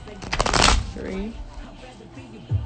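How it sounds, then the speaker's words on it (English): A deck of playing cards is riffled, a loud crisp burst of flicking cards followed by quieter handling and a soft tap at the end. "So I'm gonna do 5 shuffles."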